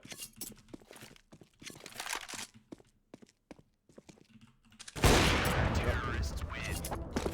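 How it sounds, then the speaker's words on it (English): A flashbang grenade detonates in a first-person shooter match, a sudden loud burst followed by a sustained harsh ringing wash; sparse clicks and footsteps come before it. "Flashbang."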